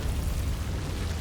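The Confringo fire spell in Hogwarts Legacy goes off as a steady, rumbling blast of fiery explosion noise, loud and close, lasting just over a second.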